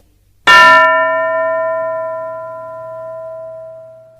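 A single clear bell strike with a sharp onset and a long ringing tone that slowly decays over several seconds, alone in a quiet setting.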